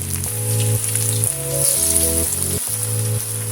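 Potato and gram flour tikki sizzle and fry steadily in a pan, a continuous close crackle with no talk, while some tonal background music plays alongside.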